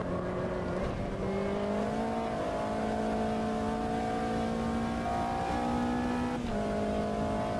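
A high, screaming race car engine in the racing game Automobilista 2 holds steady pitch, shifting up and down as it revs continuously, loud and close with no talking.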